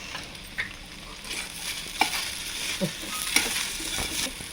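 Okra (bendakaya) pieces fry in a pan with a soft continuous sizzle, broken by occasional light clinks and scrapes of a stirring spoon.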